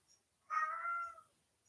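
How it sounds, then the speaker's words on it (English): A very vocal cat lets out a single loud, drawn-out meow lasting under a second, close by in a quiet room with no talking. "of a very vocal cat."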